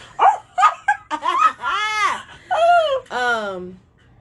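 A man imitates a puppy barking in the style of a rapper, giving a string of short yips followed by longer whining, howling yelps, loud and close with no other sound.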